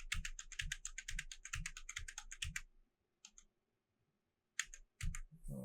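Computer keyboard keys pressed during 3D animation layout work, a quick run of even, close clicks followed by a pause and a few scattered single presses.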